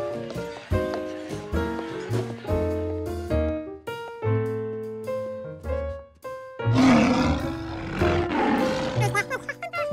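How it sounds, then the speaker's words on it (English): Lions in a children's cartoon, set in a room beside a T-Rex display, roar loudly in several long, rumbling bursts mixed with bright cartoon music and sound effects. "Once again, the lions were too loud."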